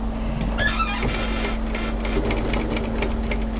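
A sewing machine stitches a kimono kaftan in short bursts, running forward and then briefly reversing to back tack, with rapid mechanical clatter over a steady hum.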